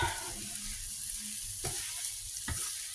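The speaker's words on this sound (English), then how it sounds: "now I'm going to add the rice and gently fry that up" Basmati rice frying in a pan, a soft steady sizzle with a couple of sharp stirring clicks as it is moved around, close and quiet with no talking.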